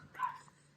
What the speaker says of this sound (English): excuse the barking dog